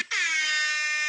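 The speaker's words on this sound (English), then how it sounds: "Get the air horn." A single loud air horn blast, starting abruptly and holding a steady, brassy tone for about a second, alone with no talking.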